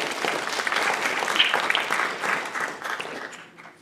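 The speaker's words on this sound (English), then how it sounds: "let's give a round of applause to Rishab" Dense applause from a school research symposium audience fills the room steadily for several seconds, then thins and fades out near the end.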